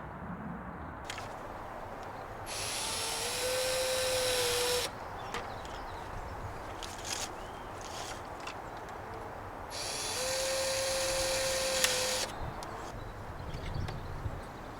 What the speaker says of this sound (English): I'm gonna pre-drill a few holes here and there